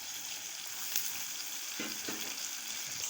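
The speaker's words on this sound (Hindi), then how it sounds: "चम्मच की मदद से अब इसको अच्छी तरह से मिक्स कर लेंगे।" A spoon stirs chili powder and ground cumin into a pan while cooking chicken karahi, making a steady sizzle with a few brief scraping clicks near the middle.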